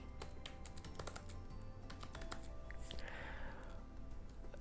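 Rapid, irregular clicks of fingers typing on a computer keyboard, heard up close and fairly quiet, with occasional louder key strikes and a faint background hum, no speech.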